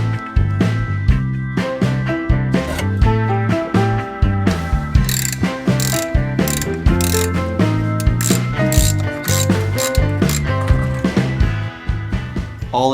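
Rapid, loud ratchet clicking runs almost continuously as spark plugs are loosened from an old barn-find engine, the pawl clattering in quick bursts with short pauses between strokes.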